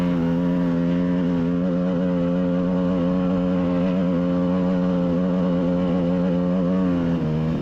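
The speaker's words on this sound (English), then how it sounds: "You can't be worried about blowing up your engine if you're coming to Cinder Hills, because it's going to be a lot of wide open throttle" An off-road vehicle engine holds wide open throttle while climbing a volcanic cinder hill, giving a loud, continuous, steady drone that stays at high revs throughout with no pauses.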